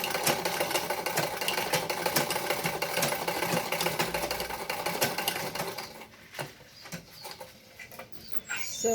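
A sewing machine stitches fabric in a fast, steady whirring run for about six seconds, loud and close, then drops to a few short uneven bursts and handling noises.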